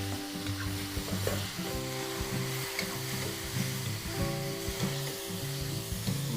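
Tomatoes frying in a pan for a milkfish dish, a steady crackling sizzle with repeated stirring scrapes and clinks, close and continuous.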